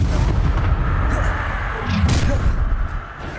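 The Confringo explosive spell in Hogwarts Legacy goes off as a heavy boom and thud over rumbling battle noise, with a sharper crack midway, loud and close.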